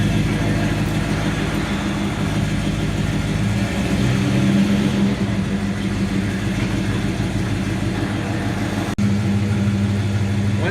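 A car rolls onto a Mustang chassis dynamometer, its engine running steadily and close by with low mechanical rumble throughout, a brief break near the end, and faint voices in the background.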